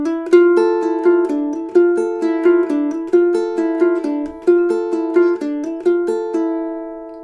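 A ukulele picks out measures 20 and 21 of the Goosebumps theme as a bright, evenly plucked melody with crisp note attacks and short decays, played solo with no voices.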